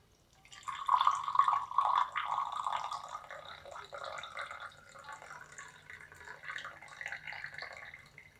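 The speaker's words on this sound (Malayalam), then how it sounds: "അരിച്ചെടുത്ത മുക്കുറ്റിയുടെ ഈ വെള്ളം ഈ ഗ്ലാസ്സിലേക്ക് ഒഴിച്ചു കൊടുക്കാം" Strained mukkutti plant water poured into a glass, a thin close trickling stream that splashes louder at first, then settles into a softer, uneven pour for several seconds.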